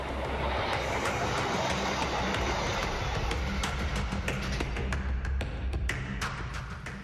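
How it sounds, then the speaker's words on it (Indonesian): A train rolls steadily past on a railway crossing between Kiara Condong and Cikudapateh in Bandung, a broad continuous rumble with sharp intermittent clacks and bangs that may be stones striking the cars. "Video kereta api yang dilempari batu saat melintas di jalur perlintasan antara Kiara Condong dan Cikudapateh"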